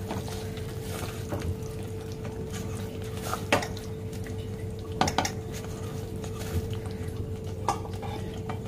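Soya chaap being stirred in a pan with coriander and roasted kasuri methi for a dhaba-style malai dish, with scattered utensil clinks and scrapes over a steady low hum, no talking.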